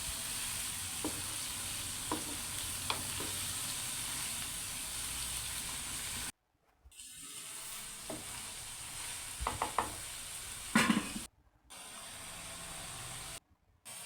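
Mixed vegetables in spiced masala sizzle steadily in a hot pan while a utensil stirs and scrapes at intervals, with a few brief pauses in the sound.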